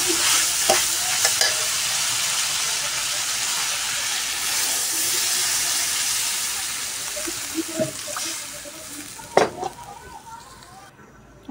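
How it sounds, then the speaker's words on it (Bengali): Water goes into a pan of spiced vegetable curry of potatoes and yardlong beans, and the mix is stirred. A loud, continuous sizzle and steamy hiss runs throughout, with scraping stir strokes and a few clinks near the end. "এখন আমি ঝোলের পানি দিয়ে দেবো এর ভিতরে।"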